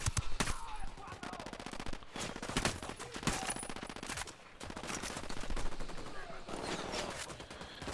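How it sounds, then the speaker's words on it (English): Rapid rifle and machine-gun gunfire from a Ghost Recon Wildlands firefight, dense overlapping bursts and volleys that fill the scene with brief lulls, loud and close throughout. "I'm opening fire."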